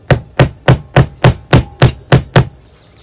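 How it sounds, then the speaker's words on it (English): A small hammer drives a punch through a plug on a 1957 Johnson 7.5 HP outboard carburetor, giving nine sharp metallic strikes in a steady, even rhythm, close and loud, with no talk. "now I got a little hammer. I'm gonna drive a hole through it."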